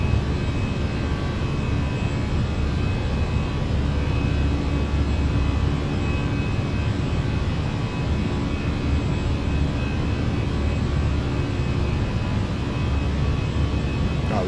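Fenix A319 jet engines roar steadily at climb thrust in Microsoft Flight Simulator, a loud, even cockpit drone with a constant whine layered over deep rumble, unbroken for the whole stretch.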